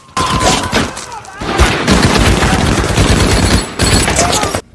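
Rapid bursts of machine gun fire crackle through a war film battle scene, with allied tanks and machine guns firing on Nazi troops in a building, the dense loud volleys broken by short pauses.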